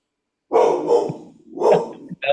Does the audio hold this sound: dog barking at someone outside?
yes